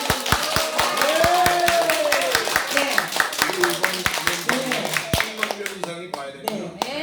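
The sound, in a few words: audience clapping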